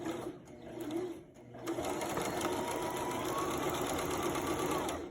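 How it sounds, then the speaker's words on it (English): A sewing machine stitches fabric pieces together, starting with a brief uneven burst and then running steadily at close range under a faint voice. "Go to the machine and sew your pieces with 1/2 inch seam allowance"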